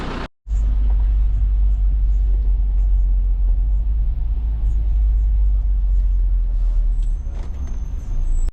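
A tour bus on a Berlin city tour gives a steady, loud low engine rumble throughout, with a faint hiss near the end like an air brake.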